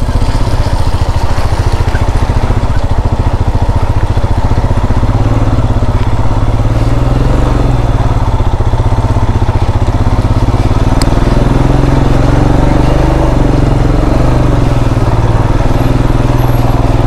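A motorcycle engine runs loud and close for the whole stretch, a steady rumbling drone with rattling clatter on a ride toward Jammu, with no talk over it.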